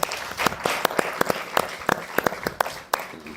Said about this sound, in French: Est-ce qu'on peut acclamer pour la chorale?